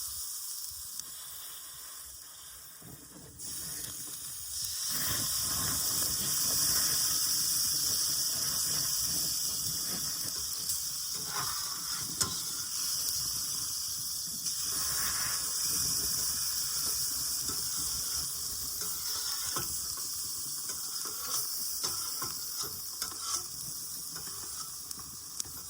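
Hot water runs steadily from a tap at a backwoods camp, a continuous hissing rush that starts after a few quiet seconds and carries on close by with small splashes and clatters.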